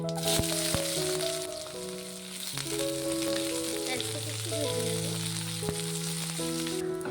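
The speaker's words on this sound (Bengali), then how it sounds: "পেঁয়াজটা একটু ভাজা হয়ে এসছে" Chopped onion and whole cumin frying in hot oil in a wok, giving a steady close sizzle that continues throughout, with tonal background sounds running over it.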